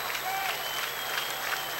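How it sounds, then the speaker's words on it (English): A baseball crowd at a Winnipeg Goldeyes versus Kansas City T-Bones game applauds and cheers in a steady, distant wash of clapping that stays moderately loud throughout. "So the crowd getting into it now."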